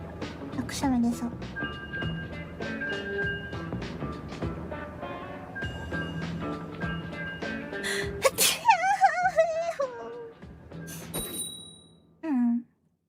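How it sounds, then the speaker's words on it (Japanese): A sudden sneeze from a streamer, one sharp burst in a stretch of near-constant background music and chatter, with a brief apology afterward. "突然のくしゃみが、すいません。"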